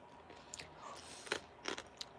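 Crunchy corn snack being chewed, a few sharp crisp crunches spread over a couple of seconds, close and quiet against a faint background.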